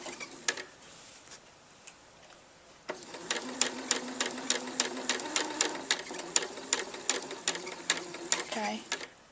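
A domestic sewing machine stitches along the edge of a fabric pocket, starting with a few slow clicks and then running in a steady, fast mechanical rattle of regular needle strokes, close and loud, with no talking.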